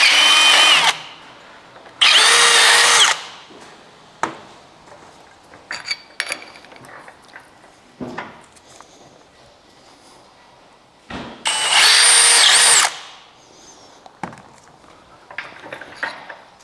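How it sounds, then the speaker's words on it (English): A power drill fitted with a 10 to 12 mm bit bores holes in a steel plate held in a vise. It comes as three loud, whining bursts of about a second each, with clanks and scrapes in the pauses and nobody talking. "we're going to drill out the holes"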